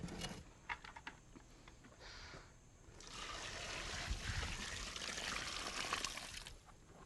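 Water pours and trickles into a tile mortar mix in a bucket, with faint splashing and dribbling in short bursts and a longer steadier pour near the end, all fairly quiet.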